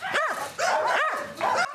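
Several dogs bark in repeated bursts at a crowded animal shelter housing about 250 dogs, the barks close and loud, overlapping with yips and whimpers.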